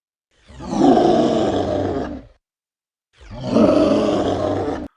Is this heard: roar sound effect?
yes